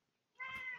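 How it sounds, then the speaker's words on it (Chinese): A cat meows once, clearly and close, in a GTA5 roleplay scene; a short drawn-out cry that starts after a moment of near silence and holds steady to the end. "怎么会有猫叫声呢？"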